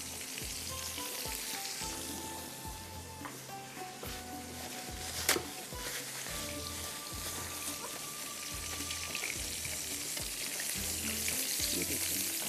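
A double-coated burger patty deep frying in hot oil, giving a steady, loud crackling sizzle throughout with a brief sharp clink midway and no talking.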